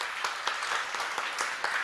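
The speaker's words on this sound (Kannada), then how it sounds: "ಚಪ್ಪಾಳೆಗಳ ಮೂಲಕ ಕಾರ್ಯಕ್ರಮಕ್ಕೆ ಭವ್ಯ ಚಾಲನೆ ನೀಡೋಣ" An audience applauds to open a district-level devotional, light and patriotic song competition, with a steady, dense patter of many hands clapping that carries evenly throughout.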